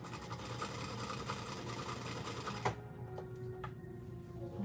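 A sewing machine stitches down either side of a zipper line on a girl's dress, running in a steady, quiet whir for a few seconds before stopping, followed by a few light clicks.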